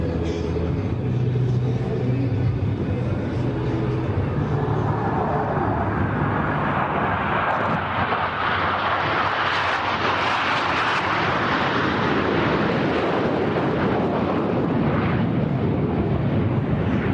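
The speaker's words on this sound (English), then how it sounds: "From behind the spectator area, Blue Angels 5 and 6 are approaching the flight line at 400 miles per hour." A pair of Blue Angels jets approaches at an air show, a loud rising roar that swells from a distant rumble into an intense rushing blast and keeps going.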